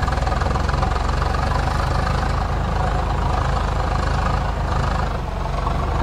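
A tractor engine in the farming game Farming Simulator 22 idles and chugs steadily with a low, knocking rumble, loud and continuous throughout with no talk.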